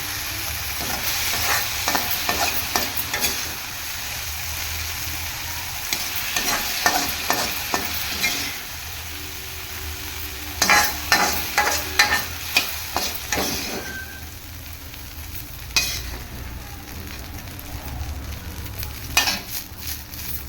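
Drumstick leaves and onions sautéing in a pan, a loud, close, continuous sizzle broken by repeated scraping stirs in bursts, with no talk.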